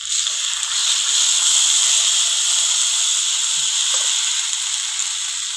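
Onion, ginger-garlic and cumin pastes fry in hot oil for a Bengali fish curry, giving a steady, loud hiss and sizzle that holds unbroken throughout with no talk over it.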